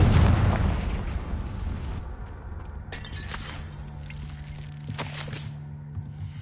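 Bombarda and Confringo spell explosions in the Hogwarts Legacy video game burst out loud and booming, followed by a rumbling roar and crackling debris that settle into a sustained low hum, with a couple of sharp later impacts.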